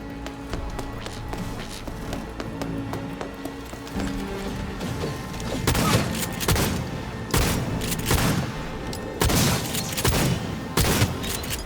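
Gunfire in the Cyberpunk 2077 video game, starting as a low murmur and building into loud bursts of shots and impacts over the second half.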